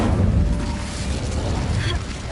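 The Incendio fire spell cast in Hogwarts Legacy: a loud, sustained whooshing burst of roaring fire that fills the whole clip, with a brighter flare near the end.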